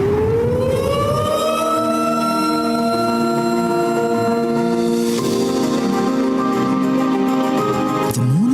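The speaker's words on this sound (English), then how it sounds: "Siren is simply a noise to those who have never heard it" A loud siren at a school's 150th anniversary launch wails continuously, its tone rising and holding steady, then dipping and swelling again near the end, with no voices.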